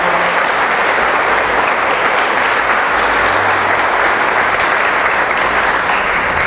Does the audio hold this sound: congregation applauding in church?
yes